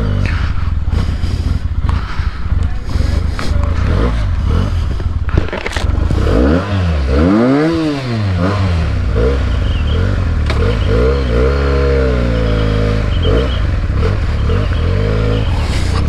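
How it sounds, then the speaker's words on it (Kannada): A motorcycle engine on a cold hill road near Nandi Hills sputters and clatters, then revs up and down in several rising and falling surges, loud and close. "ಚಳಿಗೆ ಇಂಜಿನ್ ಡೌನ್ ಆಗೋಗುತ್ತೆ."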